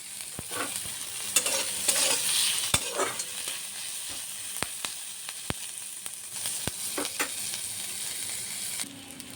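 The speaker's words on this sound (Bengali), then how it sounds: "পেঁয়াজটা ভাজা হয়ে গেছে" Sliced onion fries in hot oil in a pan, a steady close sizzle broken by sharp, irregular taps and scrapes of a spatula stirring, with no talking.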